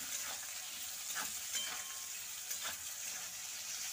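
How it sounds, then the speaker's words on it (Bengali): Carrots and green chillies frying together in a pan for a Bengali-style poha pulao, a steady close sizzle with occasional stirring scrapes and no talk. "তো এবারে আমি দিয়ে দেব গাজরগুলো, গাজরগুলো ভেজে নেব।"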